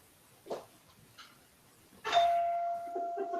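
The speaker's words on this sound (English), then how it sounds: "There's your bell." A doorbell rings in a house, with a few soft knocks or clicks first and then a sustained, ringing chime tone that holds and fades, heard alone without talk.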